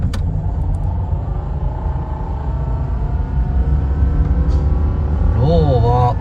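A car shifted into low gear gives off an abnormal noise over a steady, loud engine rumble with a droning harmonic whine, and a wavering, rising-and-falling tone appears near the end.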